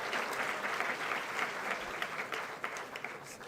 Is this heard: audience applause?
yes